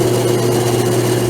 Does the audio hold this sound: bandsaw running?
yes